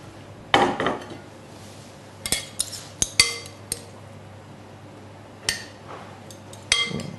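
Pasta salad being plated with dishes and cutlery, scattered sharp clinks and knocks of utensils against plates and bowls, some clustered and some isolated, over a quiet room hum with no talking.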